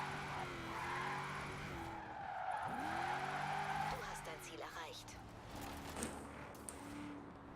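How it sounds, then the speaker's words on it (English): Nissan 350Z drifting in a Forza racing game, with tires skidding and squealing in sweeping pitch bends over a steady engine drone, close and continuous while someone talks over it. "this thing drifts so goddamn well"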